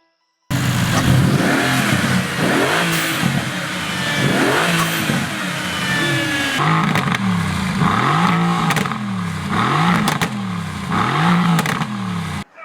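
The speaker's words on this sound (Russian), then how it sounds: "под капотом V8 объемом 4 литра с двумя турбинами" A Mercedes-AMG GT S with a twin-turbo 4-litre V8 making 510 horsepower revs repeatedly, each loud, close blip rising and falling in a steady rhythm of about a dozen bursts.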